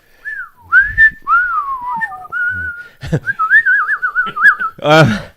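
A man whistles a wavering, sliding melody in short phrases, close and clear, with brief spoken bits between phrases and a sharper burst near the end.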